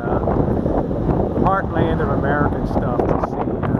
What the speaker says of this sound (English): it is very windy out here today